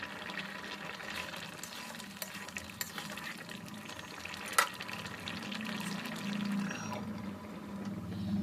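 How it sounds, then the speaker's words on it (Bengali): Fried potatoes are sautéed with chilli and turmeric powder, giving a soft, steady sizzle with intermittent stirring clinks and scrapes, and one sharper knock near the middle. "লঙ্কা গুঁড়ো, হলুদ গুঁড়ো সব দিয়ে ভালো করে কষিয়ে নেব"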